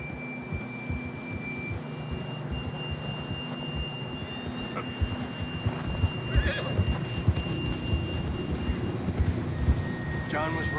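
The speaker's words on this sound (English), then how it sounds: "John was riding that horse when we left Blackwater." A horse in the Red Dead Redemption 2 video game whinnies and snorts over steady clip-clop hooves and an ambient game soundscape, with voices talking over it.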